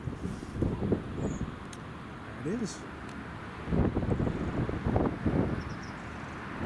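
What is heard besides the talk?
gusting wind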